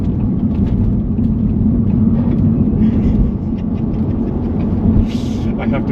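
A Tesla with MVP tuning on Vitour Tempesta P1 Super 200 tires runs around a track, giving a steady low road rumble and whirring drivetrain noise with brief faint tire or wind hiss, no talking.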